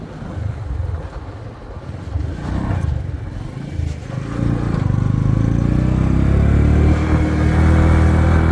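A Bajaj or TVS motorcycle rides along a main road in Nigeria with a steady engine drone. Loud wind buffeting rises as the bike picks up speed and the engine tone climbs and holds.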